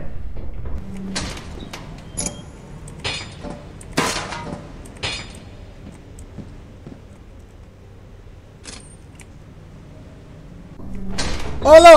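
Repeated door clunks and slams in the co-op horror game Lethal Company, a series of sharp, close knocks spaced over several seconds in a quiet space, ending in a louder rush of noise.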